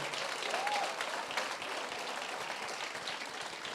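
A church congregation applauds steadily, a dense even wash of clapping that fills the room at moderate loudness without a break.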